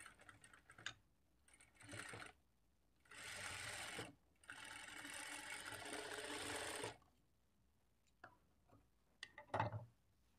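Close, moderate bursts from a sewing machine stitching dots on a blouse front part, with three separate runs of rapid mechanical chatter broken by pauses and a few handling clicks near the end.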